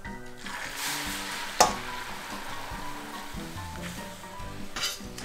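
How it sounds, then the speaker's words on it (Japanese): Pasta cooking water going into a frying pan with dried tomatoes, giving a soft continuous sizzle and bubbling with one sharp metallic clink of utensil on pan and light stirring scrapes, moderately quiet with no talk. "ドライトマト入れて炒めずにすぐ茹で汁を足します"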